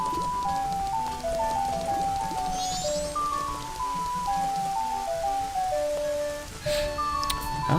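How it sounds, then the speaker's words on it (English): Rain falls steadily in a video game, a constant hiss of drops on surfaces running beneath a light, tinkling background melody of short repeating notes. "And now it's raining, as it usually does on the second day."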